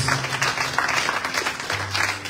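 A church congregation claps and cheers in a steady, dense burst of applause, loud and close, with voices mixed into the clapping throughout.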